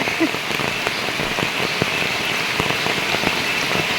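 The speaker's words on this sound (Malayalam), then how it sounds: "നല്ല മഴ പെയ്തു" Steady heavy rain pouring down, a dense broadband hiss with scattered drop impacts throughout, loud and close, with no voices.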